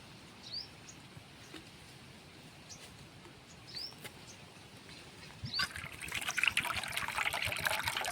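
Water trickles and dribbles out of a coconut on a farm, faint at first with a few soft squeaks, then growing into a louder splashing flow toward the end.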